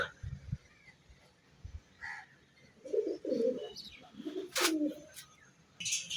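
Pigeons in a loft give soft, low cooing calls in several short bursts, close by, with a few brief chirps and small rustles between them.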